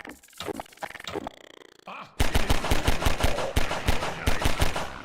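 Loud bursts of rapid automatic gunfire in the video game 1517, following a brief stretch of game voices and grunts, then hammering on in fast repeated volleys.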